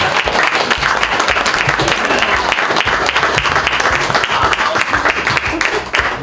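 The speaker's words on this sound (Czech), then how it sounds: "by som chcel venovať potlesk" A crowd applauds a rally crew at an award ceremony for a navigation rally's Serbia winter round, with dense continuous clapping held at a loud, even level throughout.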